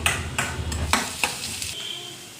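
Onions are stirred in a hot frying pan, with a spatula scraping and clinking against the metal in a few quick strokes over a soft sizzle. The activity fades toward the end.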